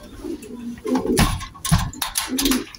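Young squab pigeons coo and squeak in short bursts, close by, with rustling and faint handling noise between the calls.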